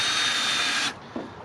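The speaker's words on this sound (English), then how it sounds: "I'll just pre-drill the screw." A power drill whirs steadily for under a second while pre-drilling a screw hole in pallet wood for a raised bed, then cuts off, followed by a faint knock.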